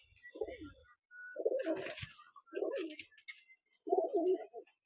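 Several full-white baji pigeons (also called ghor pigeons) cooing in rounds of soft, throaty, rolling calls, close by, separated by short pauses, with a few faint higher chirps between phrases.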